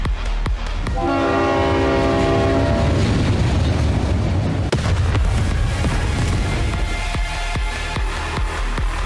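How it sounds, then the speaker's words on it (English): A train in the NIKKE game roars in with a long blaring horn over heavy rumbling wheels and crashing impacts, loud and close, the din continuing as the horn fades. "A train rushes in out of nowhere and plows through Raptures."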